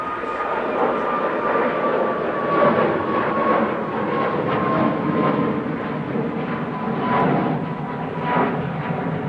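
A Boeing 737 MAX 8200 airliner bound for Palma de Mallorca at Manchester Airport gives off a steady, broad engine roar with a faint whine on top, holding at a constant level and heard from a middle distance throughout.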